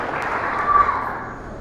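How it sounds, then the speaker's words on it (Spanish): A church congregation applauds during a Spanish-language sermon, a brief steady wash of clapping at moderate loudness that swells slightly midway. "Dale un aplauso al Señor."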